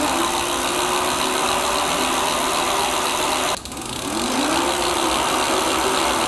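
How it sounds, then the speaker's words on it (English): A Lectric XPeak fat-tire e-bike's M20 hub motor runs on pedal assist level 5, a steady low mechanical whir with a brief dip partway through, joined by light rear-cassette clicking. "So let's see what this M20 motor sounds like and what it's all about."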